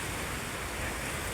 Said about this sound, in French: Bon, il pleut.